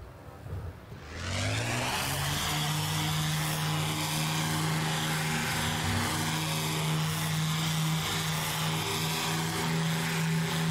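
The BV-238 flying boat's propeller engines in a flight game spool up after a brief quiet start, then settle into a loud, steady droning roar with layered harmonic whine that holds to the end.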